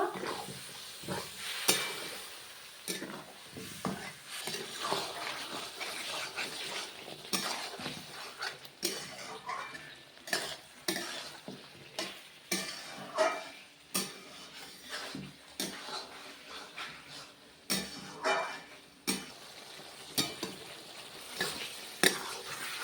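Chicken stir-fried with chili powder in a pan, a low steady sizzle broken by repeated scraping and clinking strokes of a spoon against the metal, close and unhurried with no talking.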